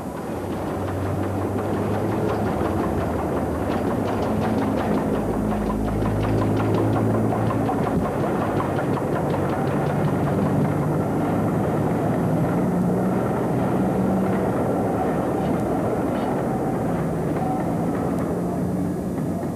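GWR 4500-class tank steam locomotive No. 4588 running on a preserved branch line toward Buckfastleigh, a steady continuous rumble with rhythmic mechanical clatter at a moderate distance, no voices.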